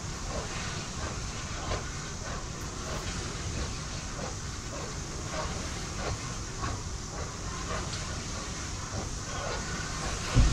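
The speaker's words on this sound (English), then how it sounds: "God, this train's so slow." A slow train rumbles along in Poppy Playtime Chapter 2, producing a steady, continuous rolling noise with faint rhythmic clacking and hiss that stays at an even level throughout.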